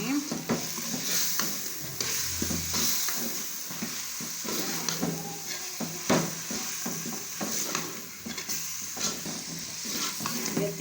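Chicken meat frying in a karahi for creamy chicken karahi, a continuous sizzle under repeated scraping strokes of a spoon around the pan, with occasional clinks of metal, close and with no voices.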